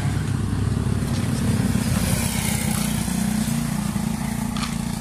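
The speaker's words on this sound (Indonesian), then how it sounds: "Awas-awas motor." Motorcycle on a street: a steady, loud buzzing engine drone holds close by throughout, with street noise and no clear talk.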